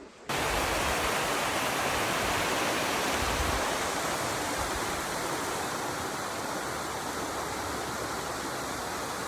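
A Carpathian mountain river rushing near a marshy valley, a continuous broadband roar of flowing water that starts abruptly and holds steady and loud, close by and with no voices.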